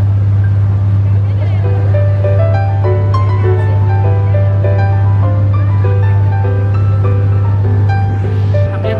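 A boat motor out on Lake Kawaguchiko near Mount Fuji in autumn hums as a steady low drone through the whole stretch, with voices talking over it.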